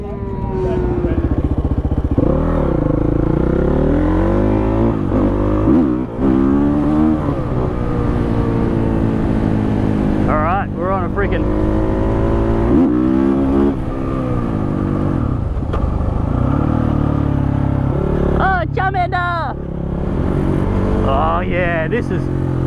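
A Husqvarna motorcycle rides and revs, its engine pitch climbing and falling through repeated throttle bursts up close, with a voice talking over the engine at times.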